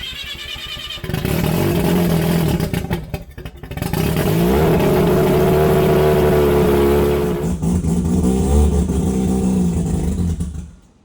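Mazda RX7 project car on its first test drive, a loud close engine drone that rises and falls with throttle, a short dip partway, then continuing until the engine note cuts off at the end.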